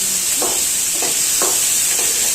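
Curry leaves, garlic and green chillies sizzle steadily in hot oil in a frying pan, a constant loud hiss with a few soft bursts as the pan is stirred.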